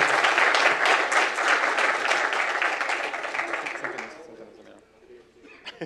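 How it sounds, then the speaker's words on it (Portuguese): An audience applauds a guest at a startup talk event, loud massed clapping with a few cheers that fades out after about four seconds, leaving quiet room sound. "E eu peço para vocês aplaudir o nosso padrinho."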